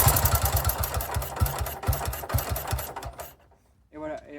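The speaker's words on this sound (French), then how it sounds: "à la retombée de régime moteur, elle cale avec le starter" A 1951 Motoconfort C45S vintage motorcycle with its choke on thumps in a quick, steady pulse after a blip of throttle, then stalls abruptly into near silence before a voice follows.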